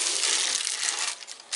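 A continuous papery rubbing and crinkling, close up, as wax paper spreads Crisco shortening, with a steady scraping texture throughout and a few sharper rustles near the end; no voices.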